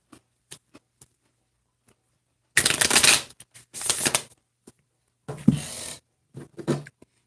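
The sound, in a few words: shuffling oracle cards for a card reading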